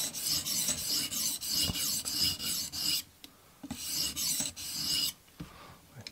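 A TRC XS Splinter fixed-blade knife is drawn across a diamond plate on a TSPROF Blitz Pro sharpening system: rapid rhythmic rasping strokes, close and crisp, with a short pause midway, then another run of strokes.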